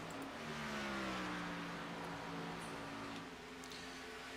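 NASCAR Cup cars racing at Atlanta, Georgia, in the Pure Speed Elite Series, a loud sustained engine roar with several pitches sliding together as the pack drives past, fading slightly toward the end.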